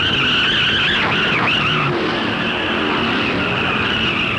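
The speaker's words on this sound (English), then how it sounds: "Tiny Lund's Ford skates down the main straightaway as Lund fights the wheel" A 4,000-pound Ford stock car skids down the main straightaway at the 1964 Darlington Southern 500, tires squealing in loud wavering bursts over steady engine roar, then fading into continuous race-car noise.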